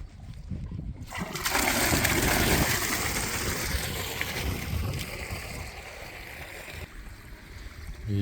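Water pouring and splashing into livestock troughs outdoors on a farm where cattle drink, a steady rushing gush with light wind, loudest early and then settling into a continuous flow.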